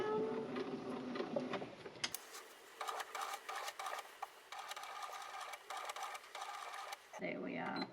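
A sewing machine stitches a tote bag in a steady, fairly quiet mechanical run lasting several seconds, with faint handling noise before and after it.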